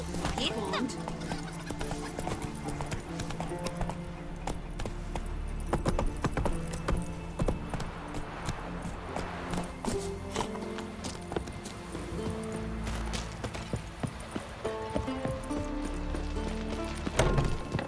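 Roach, the horse in The Witcher 3, gallops with steady rhythmic clip-clop hoofbeats, a whinny and jangling tack over a game soundscape, with voices speaking at points.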